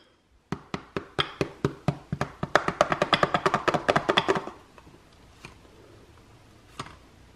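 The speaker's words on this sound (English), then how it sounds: "And then tap it a couple times." An upturned baking dish holding caramel pecan rolls is rapped against a surface in a fast series of about twenty sharp knocks that quicken, then stop, with a single faint knock afterward.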